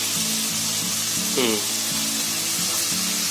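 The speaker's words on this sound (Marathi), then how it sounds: "आता गाजर आणि बटाटा टाकलाय." Chopped potato and carrot fry in a pan for Bombay biryani, giving a loud, even sizzle that fills the whole stretch, with faint tonal sounds running underneath.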